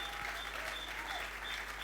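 A congregation applauds at a church gathering, a steady, faint wash of many hands clapping with no break.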